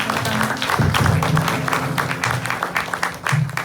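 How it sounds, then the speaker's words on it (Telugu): Loud congregational clapping fills a church service, dense and steady with a crowd murmur beneath and a voice occasionally audible. "గట్టిగా చప్పట్లు కొట్టి థ్యాంక్ యూ జీజస్"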